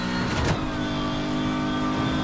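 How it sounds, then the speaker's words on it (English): A BMW M3 GTR engine in the racing video game Need For Speed Heat revs in a brief loud burst near the start, then settles into a steady, sustained drone with no speech. "This is the exact same engine sound too."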